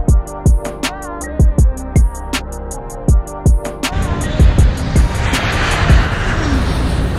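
Inside an airplane cabin in flight, a tonal musical passage with plucked notes gives way midway to a steady, broad engine roar that continues evenly to the end.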